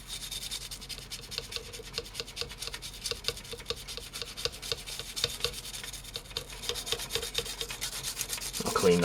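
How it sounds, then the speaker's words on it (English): Quiet, rapid rubbing and scrubbing strokes rasp against the contacts of a vintage Goodmans Active 75 speaker circuit board in an uneven rhythm, close by, growing a little louder toward the end. "I'll clean the whole board, all the contacts"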